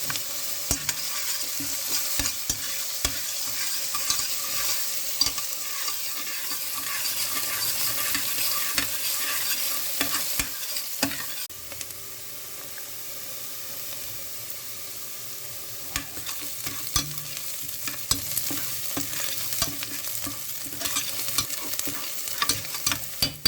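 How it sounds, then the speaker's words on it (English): Onions fry steadily in a kitchen pan for lentil soup, with a continuous sizzling hiss and occasional stirring scrapes, close and moderately loud with no talking. "Fry the onions."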